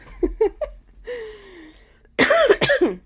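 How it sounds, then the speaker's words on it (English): A person coughs repeatedly: a few short light coughs, a drawn-out vocal sound, then a burst of harsher, louder coughing up close. "Sorry about the coughing."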